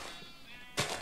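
A single short sheep bleat from the video game Minecraft, brief and fairly close, coming near the end of a quiet moment.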